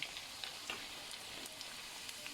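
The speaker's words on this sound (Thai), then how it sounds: "ทอดนี่ก่อน" Dried fish and dried squid frying in hot oil, a steady close sizzle with faint crackles and small pops scattered through, no talk.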